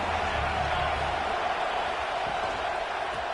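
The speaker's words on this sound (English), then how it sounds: "Hang on, Swoopy, the Buckeye crowd alive on third down" Ohio State Buckeyes home stadium crowd roaring on a third-down play against Kansas State, a dense, sustained wash of distant cheering that holds steady throughout.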